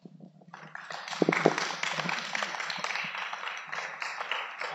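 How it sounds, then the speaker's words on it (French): Audience at Julie Péréa's legislative campaign meeting in Poussan, Hérault, June 2022: a few opening claps swell within a second into full, dense applause that carries on steadily. "Applaudissez à elle, c'est elle."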